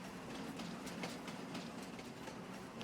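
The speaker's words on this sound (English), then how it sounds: "It's a very quiet train." A train in the Farming Simulator 25 video game rolls past with a steady rumble and rhythmic clickety-clack of wheels on track, moderately quiet and continuous.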